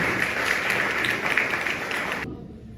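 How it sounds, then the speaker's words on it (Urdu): Applause from a church congregation during an Urdu Christmas sermon, a steady wash of clapping at moderate volume that cuts off abruptly near the end, leaving quiet. "آئے زوردار تالیاں خدا کے جلال کو دیجیے"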